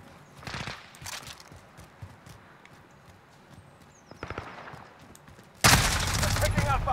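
Shotgun fire in a multiplayer video game comes as a few sharp blasts amid clattering footsteps and scattered gunfire, ending in a loud burst of firing, with a voice talking at times.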